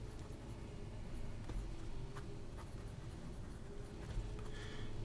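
Fountain pen with a smooth, very wet nib, filled with a red-tinted ink, scratching steadily across paper; a quiet, continuous writing scratch close up over a low background hum.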